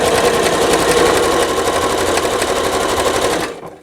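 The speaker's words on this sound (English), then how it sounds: "sew a scant 1/4 inch on each side of that drawn line" A sewing machine stitches quilt block squares laid right sides together, sewing a scant quarter-inch seam beside a drawn line; its fast, steady whir runs loud and unbroken for about three and a half seconds, then stops abruptly.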